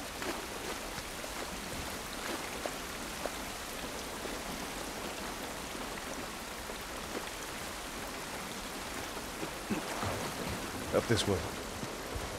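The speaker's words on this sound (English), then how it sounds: "This rain ain't gonna do us any good." Steady rain falling outdoors in The Last of Us video game, a dense, even patter filling the whole stretch, with a voice speaking briefly near the end.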